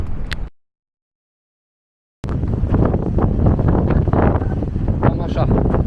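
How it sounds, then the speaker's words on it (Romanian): A brief gust, then sudden silence before strong wind roars back on a Madeira mountaintop, rushing loudly and steadily against the microphone. "Cam așa bate vântul."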